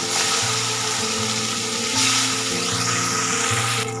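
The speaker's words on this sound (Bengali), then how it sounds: "ওই তেলেই আমি যে বাদবাকি মাছগুলো আছে আমি সেগুলোকে ভেজে ভালো করে ভেজে নেব" Rohu fish pieces fry in oil for a fish jhol, making a loud, continuous sizzle that holds steady for a few seconds and is heard alone, with a brief scrape near the middle.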